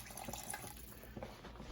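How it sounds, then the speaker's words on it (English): Water splashes from a tap into a pot of one-pot chili mac with macaroni, a soft continuous trickle with small bubbly splashes. "we're going to add a little more water to it"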